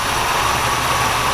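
An Oldsmobile Cutlass V6 with a small two-barrel carburetor idles after sitting unused since 2005, giving a loud, steady, close-up engine drone with no talking.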